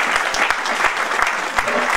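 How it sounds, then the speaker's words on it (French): A church congregation applauds a children's choir at a New Year's Eve service, loud and close, with sharp individual claps standing out over a dense, continuous wash of applause. "On va les applaudir."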